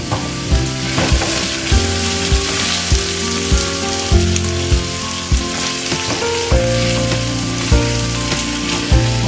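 Butter sizzles loudly in sesame oil as mixed vegetables are sautéed, a dense continuous crackle close up, with regular rhythmic clicks of stirring or music beats underneath.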